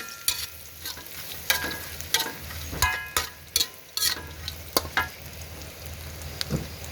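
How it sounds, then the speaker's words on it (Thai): Smashed and finely chopped garlic frying in oil in a pan, with a steady sizzle and sharp spatula scrapes and clinks that come in irregular bursts throughout. "เทียมที่แปะไว้เจียวเลยจ้ะ"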